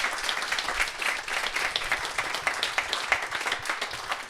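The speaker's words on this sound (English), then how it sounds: "Can I get a round of applause again?" An evening audience gives a round of applause after a guest shares the story of a UK alcohol-free beer brand, a steady wash of many hands clapping at moderate volume without pause.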